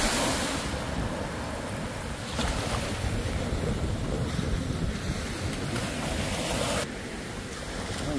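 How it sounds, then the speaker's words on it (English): Ocean surf on a beach washing in continuously, a broad rushing roar mixed with gusting wind noise against the microphone, without talking. "Oh, look how waves going up."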